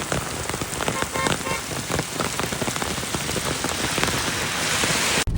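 Heavy monsoon rain pours down on surfaces nearby, a dense and loud continuous patter of drops, steady from start to end with no voices.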